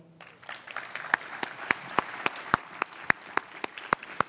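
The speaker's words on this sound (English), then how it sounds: "Another round of applause for Mylene" Applause from an audience at a university building grand opening, a modest round of clapping with distinct individual claps standing out in a fairly steady rhythm, moderately close and alone.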